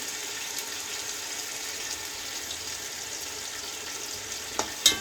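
Yogurt stirred into tomatoes and chicken frying in a pot for chicken mandi, a faint, even sizzle with light stirring clatter and a couple of sharp utensil knocks near the end.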